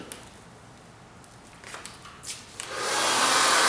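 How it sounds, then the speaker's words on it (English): A handheld hair dryer is used to blow-dry hair in a styling session. Faint handling sounds come first, then the dryer switches on near the mic with a loud, steady airy whoosh. "So just continuing to blow dry through this section."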